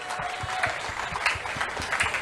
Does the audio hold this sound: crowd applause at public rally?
yes